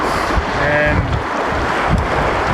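Strong wind gusting across a microphone beside the water at Yamdrok Lake, 4,300 meters up in Tibet, a loud, steady blustery roar with a faint wash of lapping water beneath.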